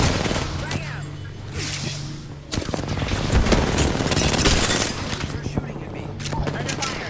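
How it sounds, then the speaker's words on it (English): A grenade blast tearing through a wall in the Apex Legends battle royale game, booming amid a busy stretch of rapid gunfire and combat noise, with players talking excitedly over the chaos. "Big nade, big nade, big nade."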